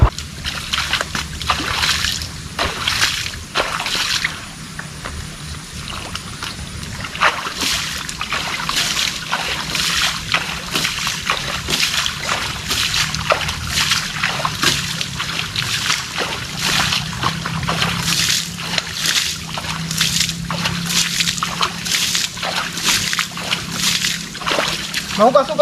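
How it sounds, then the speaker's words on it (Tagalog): Water splashes and sloshes in repeated bursts as motorcycle tires are washed during a roadside stop, loud and close, with a voice talking over parts of it. "Mahugas-hugasan lang yung gulong mga kasinag para hindi madulas."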